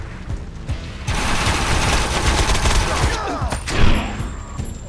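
Dense automatic gunfire from the shooter game Defiance, rapid sustained bursts rattling close and loud for several seconds, with a louder hit near the end.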